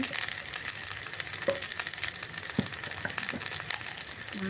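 Turmeric and chili powder sizzle in hot oil while making a chicken curry, a steady close, bright crackling hiss with a few light clinks of a spoon, no voices.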